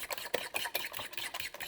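Rapid, steady scraping and clicking of a fork whisking egg and milk together in a bowl by hand for French toast, close and fairly loud, with no talking.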